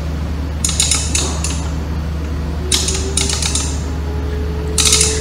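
Ratcheting clicks and mechanical clunks from bevel-angle adjustment on a cordless lithium-battery miter saw, arriving in three short bursts over a steady low background hum, close and moderately loud.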